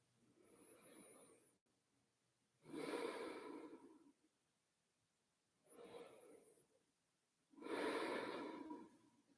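Slow breathing during a restorative yoga session in a cross-legged seated position, four long breaths alternating in and out with quiet pauses, close and soft with no talking.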